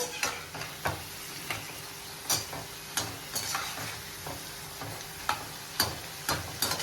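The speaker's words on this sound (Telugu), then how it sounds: "చూడండి ఇవి కూడా ఫ్రై అవ్వచ్చినాయి" Ivy gourd (dondakaya) pieces fry in a wok, giving a continuous close sizzle punctuated by repeated sharp scrapes and clacks of a spatula stirring them, at a loose uneven rhythm, with no one speaking.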